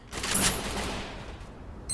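Gunfire in the Free Fire battle royale game: a sudden loud burst of crackling shots that swells and then fades over about a second, followed by a short sharp click at the end.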